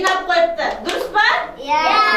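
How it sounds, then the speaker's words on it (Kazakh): Kindergarten children clap their hands at a Mother's Day (March 8) morning party, bursts of quick, close applause mixed with a voice and children's chatter. "Шапалақ ұрамыз бұларға. Шапалақ ұрыңдар."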